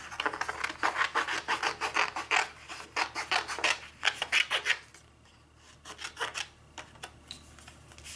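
Paper being fussy cut with small scissors, a quick series of close, crisp snips and rasping rubs in bursts, loud at first and then thinning to a few scattered cuts, with no voices.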